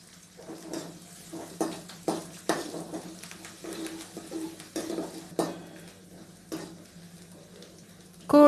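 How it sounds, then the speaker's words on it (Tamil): Garlic and curry leaves are sautéed in a pan for prawn gravy, with repeated close clinks and scrapes of a utensil against the pan over a faint sizzle, no talking. "நல்லா வதக்கி விடுங்க"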